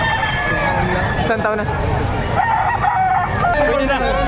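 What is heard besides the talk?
rooster crowing at Padre Garcia livestock auction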